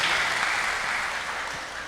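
A crowd claps together at a church leaders' gathering, a dense continuous wash of applause at moderate level that slowly fades.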